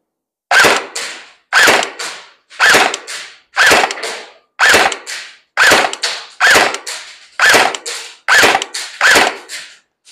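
Semi-automatic shots from a Tokyo Marui SGR12 airsoft rifle: ten sharp, evenly spaced cracks about one per second, loud and close, with no talking.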